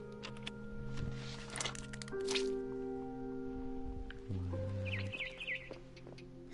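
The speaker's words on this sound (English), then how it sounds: "Then I heard chirping outside my window." A barn swallow chirps outside a window in the video game What Remains of Edith Finch. Faint, quick high chirps come late in the clip over a steady bed of game music and ambience.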